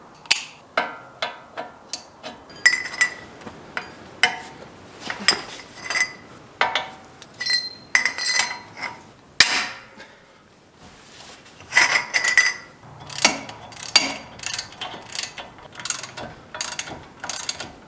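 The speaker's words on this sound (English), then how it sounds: "to get these brake caliper bolts off, I'm going to use an 18mm socket" Ratchet wrench with an 18mm socket clicking as it loosens brake caliper bracket bolts on a Chevy Suburban during a wheel bearing and hub job; rapid bursts of metallic ratcheting clicks repeat throughout, close and distinct with brief pauses between strokes.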